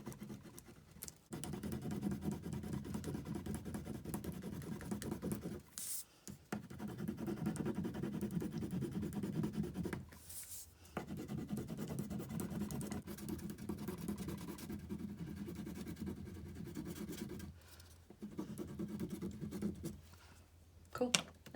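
A crayon scratches back and forth on paper in long steady strokes, pausing briefly between bursts of coloring, close and fairly quiet.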